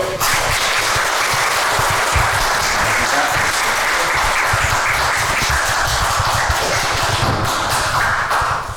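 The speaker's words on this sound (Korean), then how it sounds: "박수를 받으십시오." An audience at a talk concert claps to welcome a guest speaker, with dense, sustained applause that holds steady and loud throughout.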